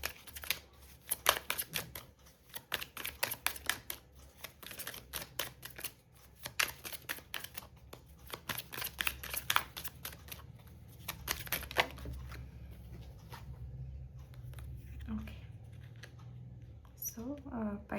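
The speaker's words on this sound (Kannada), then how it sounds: "ಇನ್ನೊಂದು ಕಾರ್ಡ್ ತೆಗೆಯೋಣ." Tarot cards are shuffled and drawn by hand: rapid bursts of crisp papery riffling and flicks, then scattered softer card snaps, close and fairly quiet, with a voice talking faintly at points.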